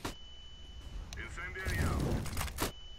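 A flashbang grenade goes off in the shooter game CSGO, a sharp crack followed by a dense burst of noise and a thin lingering whine, with gunfire-like snaps mixed into a busy match and voices in the background.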